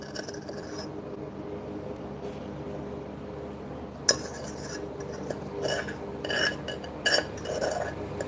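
Thick butter and sugar syrup being stirred in a pot, with quiet scraping at first and then louder, irregular metallic scrapes and clinks of the spoon against the pot in the second half.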